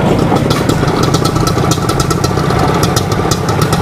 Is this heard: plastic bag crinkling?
no